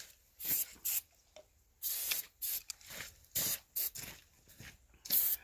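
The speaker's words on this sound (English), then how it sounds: "brake cleaner" Aerosol brake cleaner hisses in a series of short, sharp bursts, roughly ten, as it is sprayed onto the rear brake rotors of a Ford F350 dually truck. Quiet gaps separate the bursts.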